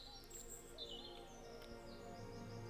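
Bird chirps in a video game, several short high tweets over a steady low ambient game background, fairly faint and with no talking.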